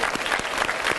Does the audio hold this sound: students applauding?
yes